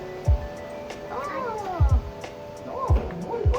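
A pet cat being fed gives a few meows and a caterwaul-like whine, close by, alongside several low thumps and sporadic voices in the background.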